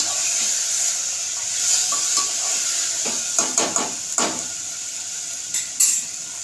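Spices sauté in hot oil for a misal tempering, a thin steady sizzle near the pan broken by spoon scrapes and light metallic clinks against the pot.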